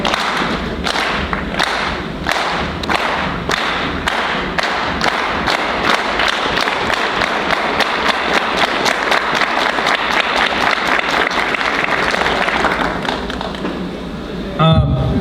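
An audience at a Cesar Chavez holiday celebration doing a rhythmic unison clap, the claps loud and evenly spaced, quickening steadily until they dissolve into continuous applause.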